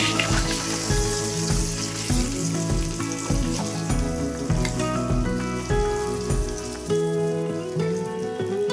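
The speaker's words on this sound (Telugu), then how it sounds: "ఇలా తిరగేసుకుంటా ఉంటే అలా వేగిపోతాయి" Chanduva fish pieces fry in a pan with a steady, dense sizzle and crackle that runs throughout, with music playing underneath.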